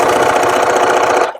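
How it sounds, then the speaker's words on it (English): A sewing machine runs loud and close in one continuous rapid mechanical chatter, stitching a Lycra strip along a costume edge, then stops abruptly. "So just sew on the edge all the way down."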